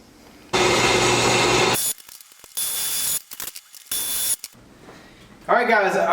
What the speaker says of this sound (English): Let's get these holes drilled.